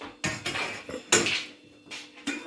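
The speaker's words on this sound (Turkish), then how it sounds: "Anne gel ben şu tencereleri vereyim sana" Metal pots clatter and clank as they are handed over during a kitchen renovation, with several sharp bursts of cookware knocking together, close and fairly loud, with no speech.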